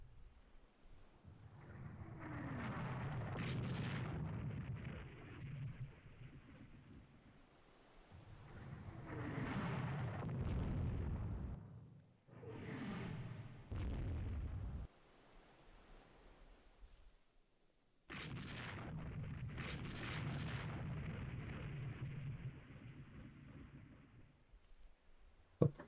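A warship in the naval strategy game Rule the Waves 3 is struck by a torpedo and burns, giving heavy, booming rumbles that swell and fade in several long waves with brief quiet gaps between them. No voices.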